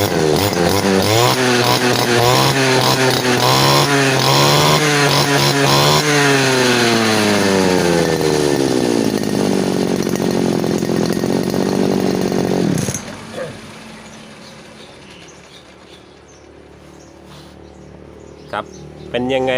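A small petrol grass trimmer engine, left unused for a long time, buzzes loudly, revving up and down in bursts, then cuts out abruptly, leaving near silence.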